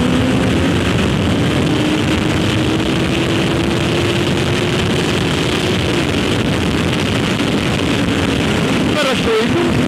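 A Honda CBR1000F sport-touring motorcycle accelerates on a busy road, its engine a loud continuous drone with a rising tone under rushing wind noise, heard from the rider's position.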